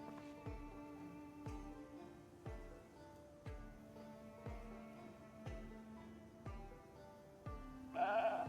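Sheep bleating in the Project Zomboid video game, faint and repeated at a regular, roughly one-second pace, with a slightly louder bleat near the end.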